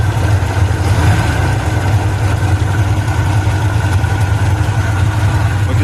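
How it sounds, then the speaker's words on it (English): A hot rod engine with a carburetor idles high and steady, close and loud, its low rumble holding unbroken for the whole stretch with no talk over it. "But this bitch maybe has a vacuum leak too, because she's fucking idling high"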